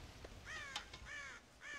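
Crows caw in the video game Red Dead Redemption, three harsh, rasping calls spaced across the moment, with a sharp click between the first two, over a low, quiet outdoor background.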